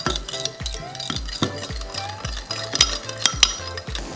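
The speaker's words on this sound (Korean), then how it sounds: "먼저 설탕 1큰술, 간장 2큰술, 맛술 1큰술, 물 3분의 1컵을 넣고 잘 섞어주세요" Sauce of sugar, soy sauce, mirin and water stirred briskly with a spoon in a bowl, giving a steady rhythm of close clinks and scrapes, about three strokes a second, with no talking.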